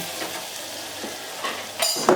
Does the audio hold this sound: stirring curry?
yes